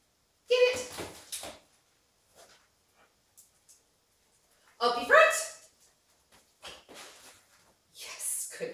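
A dog gives a few short barks and yips in separate bursts, with quiet pauses between them, close by.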